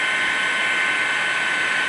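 Police rescue helicopter hovering low over a disaster zone the day after an earthquake, its loud, steady rotor and turbine roar filling the whole stretch without a break and with no voices.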